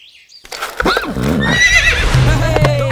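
A horse gives a loud, close whinny with a rising and falling neigh, followed by hoof clip-clop and a steady low hum underneath.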